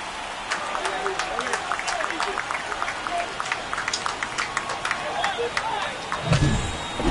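A stadium crowd in the MLB The Show 24 baseball game cheers and claps in a steady, busy roar, with scattered sharp claps and a low thump near the end.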